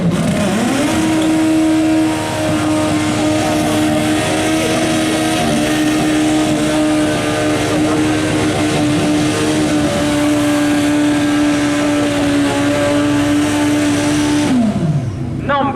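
A Suzuki Hayabusa Turbo motorcycle of about 1300 cc holds a loud, steady high rev at the start line of the Brighton Speed Trials, a sustained engine drone lasting several seconds before dropping off sharply at the end.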